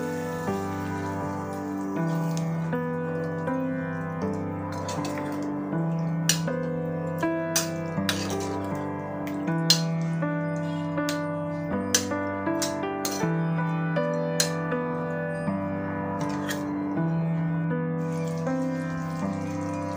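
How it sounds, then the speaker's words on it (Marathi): Water splashes and trickles into a pan of vegetables in a steady stream, heard over soft background music with a few light clinks. "आता आपण या भाज्या शिजण्यासाठी यामध्ये पाणी घालूया"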